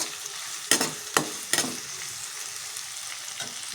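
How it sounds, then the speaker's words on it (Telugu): Onions and green chillies with garam masala fry in a pan for chicken curry, a steady broad sizzle broken by three sharp scraping stirs early on, close and alone with no talk. "ఉల్లిపాయలు బాగా ఫ్రై అవ్వాలి"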